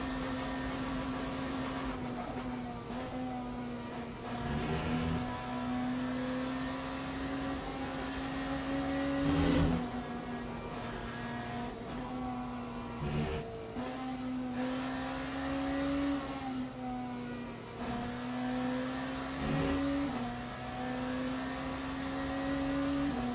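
A BMW race car engine in the Le Mans Ultimate racing game on a rainy circuit, a steady droning engine note rising and falling with throttle and gear changes, with occasional bumps and rumbles over the long run.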